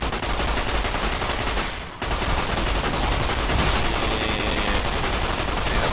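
Gunfire erupts in Fallout New Vegas during a fight, dense continuous rapid shots and crackling bursts filling the scene with a brief dip before the firing resumes, no voices.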